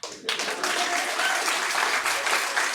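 Audience applause at a stand-up comedy special, opening as a sudden burst of clapping from a crowd in the room and holding steady and full for a few seconds.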